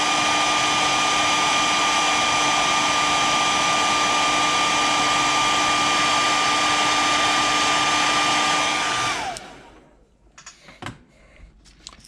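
A heat gun blows steadily and loudly on a freshly painted fishing lure, a continuous whooshing roar with a fixed tone that runs for about nine seconds, then cuts off, leaving faint handling clicks.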